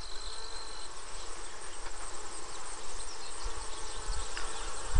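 Honeybees at an open hive during an inspection on a summer day, giving a steady, dense insect hum close to the microphone that runs throughout with no talk.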